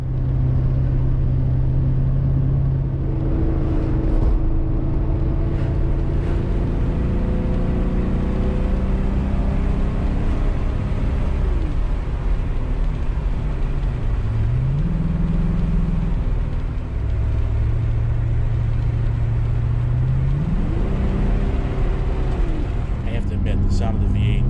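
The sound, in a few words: 1985 Porsche 928S V8 engine while driving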